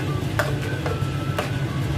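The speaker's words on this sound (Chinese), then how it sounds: "你搅啊搅搅搅搅搅" Canned beans with an added bowl of water are stirred in a pot, giving soft repeated scraping strokes over a low simmering hiss, close and fairly loud.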